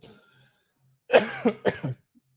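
A short pause, then a few harsh coughs in quick succession from a single person close up, ending with a throat-clearing rasp.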